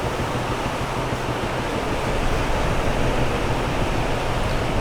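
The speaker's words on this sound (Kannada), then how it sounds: "ಏನು ಉಯ್ತಾಯ್ತು ನೋಡಿದ್ರು ಮಳೆ." Heavy rain pours on a moving car on the Honnavar to Jog Falls route, a dense, steady roar of water that stays loud and unbroken throughout.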